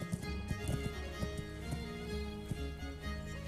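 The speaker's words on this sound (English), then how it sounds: "your horse runs out of stamina real quick" Hooves of a galloping horse in the medieval video game Kingdom Come: Deliverance drum in an irregular clip-clop rhythm, set against steady, tonal game music that partly covers them.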